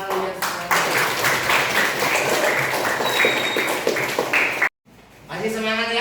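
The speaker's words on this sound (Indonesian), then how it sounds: "tepuk tangan buat kalian semua" Schoolchildren in a classroom clap together in a brisk round of applause that stops abruptly, followed by a voice speaking.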